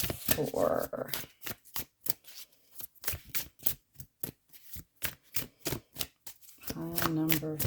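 Tarot cards are shuffled by hand in rapid, rhythmic riffling bursts close up, with a person speaking briefly at the start and end.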